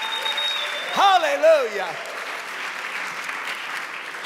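A church congregation bursts into applause, a broad steady clatter of many hands running throughout, with a voice calling out over it near the start.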